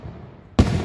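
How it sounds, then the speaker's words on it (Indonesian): Fireworks over a river under a bridge in Japan at night: after a low murmur of background noise, a single loud, sudden boom bursts close by and rumbles on briefly. "Nonton kembang api di bawah jembatan."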